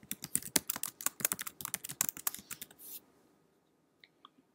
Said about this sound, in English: you can type in the name of your business